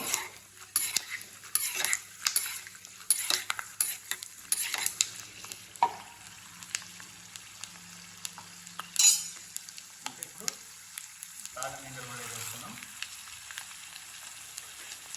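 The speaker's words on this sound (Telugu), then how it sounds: "పల్లీలు మంచిగా దోరగా వేయాలన్నమాట" Peanuts fry in a pan, being made for a pulihora rice dish, with a soft steady sizzle broken by repeated scraping and clinks of a spoon stirring against the pan, close by and without talk.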